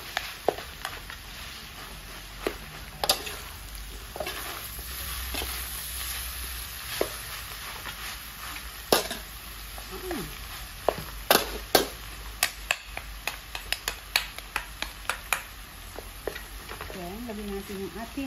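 Santol pieces frying in a pan (kawali) for sinantolan with pork and coconut milk, giving a steady low sizzle punctuated by many sharp utensil clicks and scrapes from stirring, near and moderately loud, with no talking.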